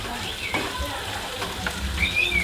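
Rice tipped into a hot pan for Darno Cappo's nasi goreng crackles and sizzles steadily throughout, a close, dense frying hiss with faint scraping, while a voice talks over it.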